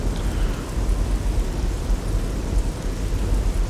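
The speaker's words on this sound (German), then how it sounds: "es regnet. Wir alle lieben Regen in Videospielen." Steady rainfall in the video game Fallout 3 makes a dense, even hiss with a low rumble underneath, continuous and fairly loud throughout, with no voices.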